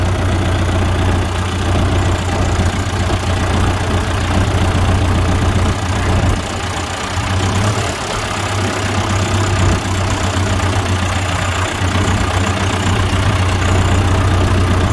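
A John Deere 440 skidder engine idles after sitting for 15 years, a loud, steady low diesel rumble that runs without a break, close up and with no talking.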